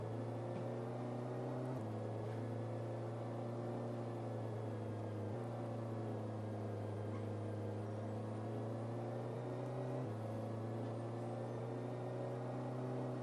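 A car with an automatic transmission revs in first gear, a steady droning engine hum heard faintly from inside, rising and dropping in pitch in a few distinct steps with no talk.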